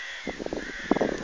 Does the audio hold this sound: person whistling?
no